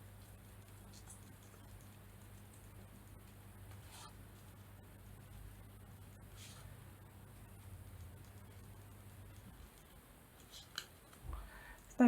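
Quiet, close snips of scissors cutting paper for a collage, a few soft isolated cuts over a low steady hum, with a slightly louder cluster of snips near the end.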